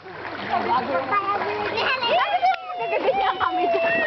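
A child swimming and splashing in the sea at high tide, with close splashes of water mixed with excited children's voices and chatter throughout.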